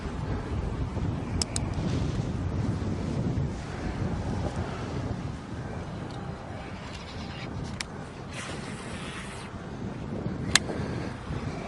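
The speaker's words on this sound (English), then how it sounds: "South wind started kicking pretty good." Strong south wind buffets the microphone on open water during a bass fishing tournament on the Kissimmee Chain, a loud, continuous rumbling roar with gusty swells and faint sharp clicks, with no talking.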